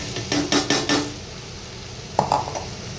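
Soybeans, masala and washed rice stirred together in a pan for a soybean pulao, a few sharp metal spoon scrapes and clinks against the pan, close and fairly loud, with a soft sizzle beneath.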